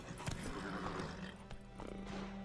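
Horse hooves galloping in The Witcher 3: Wild Hunt, a quick steady clip-clop with a brief whinny-like note, close and fairly loud against faint game ambience.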